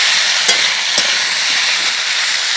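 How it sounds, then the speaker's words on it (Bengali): Potatoes and green beans frying in a pan, a loud continuous sizzle with a few sharp scrapes of a spatula as they are stirred. "আমি মাঝখানে আর একবার আলু বিনস একসাথে নাড়াচাড়া করে নেব"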